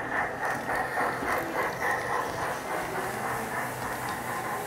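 A restaurant's miniature food-delivery train rattles and clicks along its track in a steady mechanical rhythm as it arrives and halts, moderately close and heard alone.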